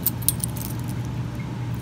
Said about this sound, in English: let me find the right key.